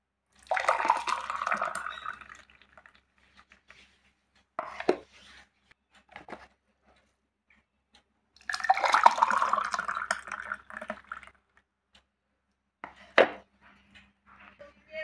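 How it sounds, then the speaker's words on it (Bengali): Blended watermelon juice poured from a grinder jar into two glasses, two long liquid pours separated by quiet, with short knocks and clinks of glass and jar in between. "এবার এটাকে আমি গ্লাসের মধ্যে ঢালবো।"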